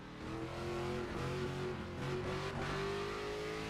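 Race car engine in the NASCAR 25 video game droning steadily at high revs, its pitch shifting as it moves between gears, loud and continuous with no talk.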